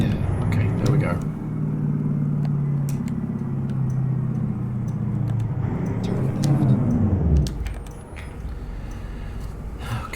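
V8 Mack R truck in American Truck Simulator on a snowy road, a loud low engine rumble that swells, then drops away as it brakes and downshifts, with people talking over it.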